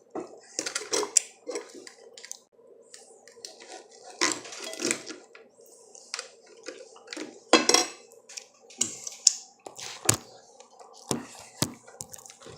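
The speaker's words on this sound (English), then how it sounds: "I'm gonna use a knife" A knife cuts through grilled dove meat on a plate, giving irregular scraping and clinking taps of metal on dishware, close and intermittent with short pauses between strokes.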